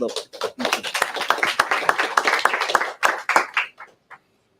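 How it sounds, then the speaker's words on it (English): Clapping from an audience at a community gathering, a burst of mixed hand claps that thins out and fades over a few seconds, with voices heard among it. "One more applause for our."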